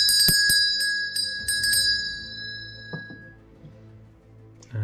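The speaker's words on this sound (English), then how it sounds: "We have a little Edwardian school bell here." A small Edwardian school hand bell rings with several bright metallic strikes in quick succession, close and loud, the ringing decaying before a final knock.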